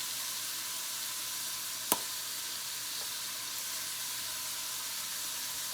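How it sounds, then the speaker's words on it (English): Continuous sizzling of chicken browning in a pan, a steady hiss with one sharp tap partway through; no one speaks. "You can hear that chicken getting that brown color."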